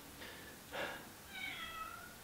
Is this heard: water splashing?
no